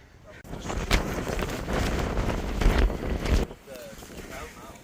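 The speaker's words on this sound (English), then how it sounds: "Yeah, it's pretty windy up here" Strong wind buffets the microphone high on a Lake District mountain, a loud roaring rush for a few seconds before easing off, with a faint voice at the end.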